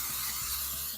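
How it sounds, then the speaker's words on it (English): A steady, close hiss of Pam cooking spray being sprayed into an 8 by 8 baking pan, one continuous burst lasting about a second with no talk. "I'm going to spray it with some Pam."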